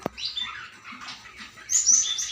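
Pet canaries, lovebirds and parakeets give short, bright chirps and tweets, fairly close and fairly quiet, with a soft tap at the start and no talking.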